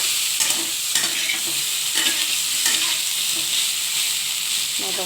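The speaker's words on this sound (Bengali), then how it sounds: "তো চলুন দেখি ফুলকপিটা ভাজা আদৌ হলো কিনা।" Cauliflower fries in a pan with a steady bright sizzle, broken by the scrape and clatter of a spatula stirring it every second or so, close and alone.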